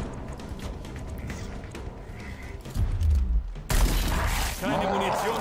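Gunfire from the Gears Tactics video game, heavy, booming shots with low thuds and a sudden bright, crackling burst after a brief pause, loud over a busy battle soundscape.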